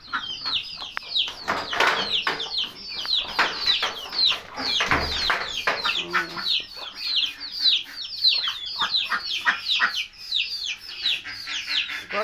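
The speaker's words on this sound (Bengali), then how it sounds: "তো মুরগিগুলো আমি এখনও ভিতরে ধরে রাখছি।" Chickens kept inside a small house cluck continuously and close by, a dense overlapping chorus of clucks with no talk.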